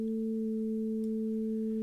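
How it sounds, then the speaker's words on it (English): Two steady sine tones at different pitches sound together as one sustained electronic note, generated in Max/MSP, clean and unchanging with no other sound. "it's actually made up of two different frequencies of sine wave"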